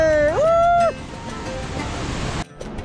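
A constant roar of rushing water from Futfute waterfall in Nepal, broad and steady, with a brief tonal sound at the start.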